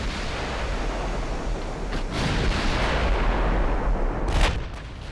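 Naval gunfire in the Ultimate Admiral Dreadnoughts warship game: a sustained rumbling barrage of heavy guns with several deep booms and a sharper blast near the end, loud and without talk.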